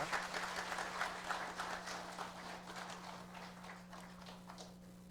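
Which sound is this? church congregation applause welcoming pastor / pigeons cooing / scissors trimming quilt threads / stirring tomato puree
church congregation applause welcoming pastor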